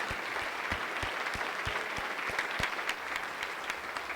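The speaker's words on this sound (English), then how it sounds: "everybody else clap for us" Audience at a university spring general assembly clapping for standing Faculty Senate members, a steady, fairly dense round of applause from a moderate-sized crowd heard at some distance.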